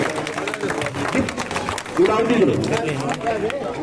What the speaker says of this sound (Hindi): जोरदार तालियां, खड़े होकर तालियां जी सभी जी।